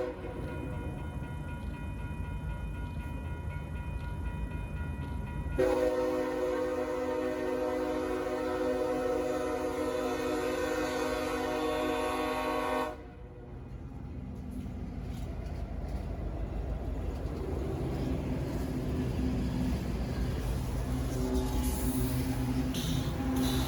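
A Union Pacific heritage-unit diesel locomotive rumbles past with a loud, sustained multi-tone horn blast lasting several seconds, then the heavy rolling rumble of the train continues.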